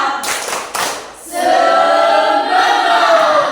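A school class performs a rhythmic spirit clap chant, with a burst of sharp group claps and voices at the start, then sustained loud shouting and chanting from the children in unison.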